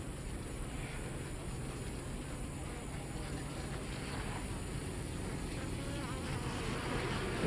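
Honey bees buzzing densely around a hive after honey extraction during a dearth, a constant close swarm drone with individual bees passing near, no voices.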